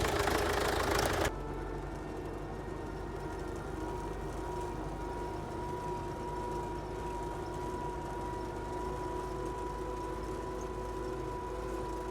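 A tractor's pony starter engine runs with a steady, loud, droning hum that holds evenly throughout after a brief louder burst at the start, with no voices.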